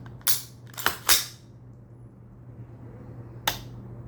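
An AR15 trigger dry-fired and reset during a selector switch install, a few sharp isolated clicks close up, the first three bunched together and a single one after a pause.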